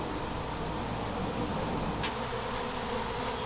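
Dense swarm of honeybees buzzing close around a beekeeper, a steady continuous drone with no break, loud and close throughout.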